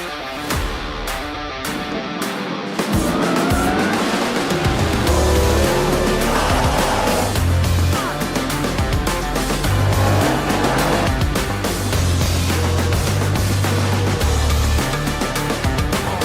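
Rallycross race cars compete at Mondello Park circuit in Ireland, engines roaring loudly and continuously with rising and falling revs as cars pass, backed by crowd ambience and occasional tire noise.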